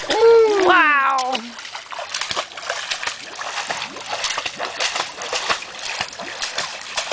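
A small child swims in water at home, making repeated light splashes and sloshes in quick irregular bursts, with an adult voice and a child's squeals heard at the start.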